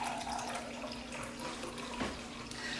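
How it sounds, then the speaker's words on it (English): Lukewarm water pours steadily from a tap into a measuring cup on a kitchen scale for pizza dough, a continuous close splashing trickle with a brief louder splash near the end. "I'm going to measure out 340 grams of lukewarm water."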